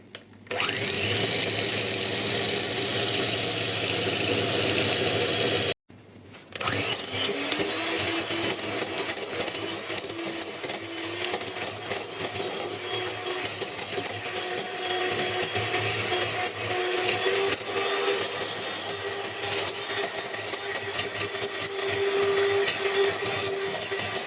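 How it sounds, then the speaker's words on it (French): An electric hand mixer beats a sugar mixture until it turns foamy, giving a loud, steady whirring drone that stops for a moment and then runs on continuously. "tout en laissant le batteur en marche"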